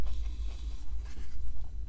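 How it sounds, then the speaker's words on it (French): Close, crisp crunching of extremely crispy KFC fried chicken being bitten and chewed, irregular crackly bursts with no talking. "un poulet extrêmement croustillant"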